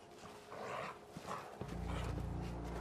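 A dog barks in Fallout 4, giving a couple of short barks amid game sounds. A low, steady ambient hum starts partway through.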